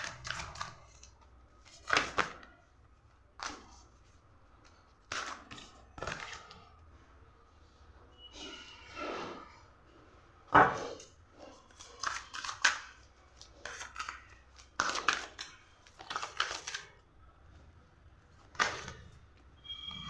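Tarot cards drawn from a deck, one by one, with a series of brief, close papery flicks, snaps and slides spaced irregularly across a quiet room.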